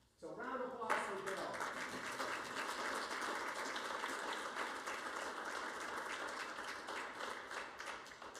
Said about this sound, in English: So round of applause for Bill